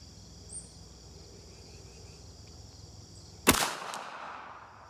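A single sharp 300 Blackout rifle shot fired outdoors, one loud crack with a short decaying tail, after a stretch of quiet background with insects chirping.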